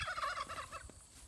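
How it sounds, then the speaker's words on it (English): Narragansett turkeys on a farm gobble in a rapid, warbling burst, fairly close and loud, with a few calls overlapping before fading. "So here are our Narragansett turkeys."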